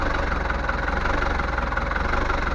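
A Bavaria 38 sailboat engine runs steadily at idle, a close, continuous low rumble with a regular throbbing beat and no pauses.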